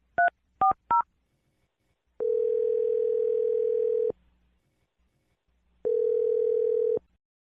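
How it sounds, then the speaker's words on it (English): Telephone keypad tones beep three times in quick succession, followed by two long steady ringback-style tones separated by silence, clean and close with no talk. "I'm going to dial the phone number right now"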